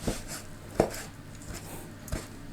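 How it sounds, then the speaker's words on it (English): Knife chopping ingredients on a cutting board for eight treasure rice, four sharp isolated chops spaced irregularly, close and fairly quiet with no talk. "Chop up half of them, which will go into the rice."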